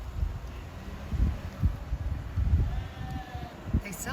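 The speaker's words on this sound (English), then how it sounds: "We came across a bunch of these sheep" Sheep bleating on open grazing land outdoors, a few short wavering calls at moderate distance over low wind rumble and rustling, with faint voices nearby.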